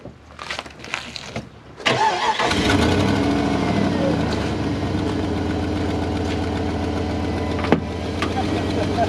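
After a few faint clicks and a short pause, a stock Jeep Grand Cherokee WJ on 32-inch tires cranks and fires up. It then settles into a steady, rumbling idle close by.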